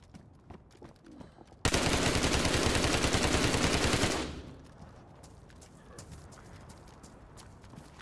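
Sustained rapid gunfire in the survival game DayZ, on the icy Sakhal map: a loud, dense burst of shots runs for about two and a half seconds and then cuts off, leaving quiet ambience.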